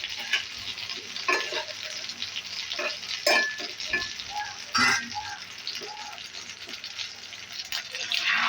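Potato-coated fish frying in a pan sizzles steadily up close, with repeated scrapes and clatters of a spatula stirring and shifting the pieces.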